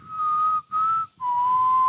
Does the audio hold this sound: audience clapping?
no